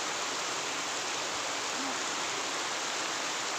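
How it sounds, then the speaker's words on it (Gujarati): Rainwater runs through a village street in Mahuva during a cloudburst, a steady broadband rushing wash with no clear breaks. It stays constant and moderately faint the whole time, and no one speaks. "પાણી હાલતા થઈ ગયા છે."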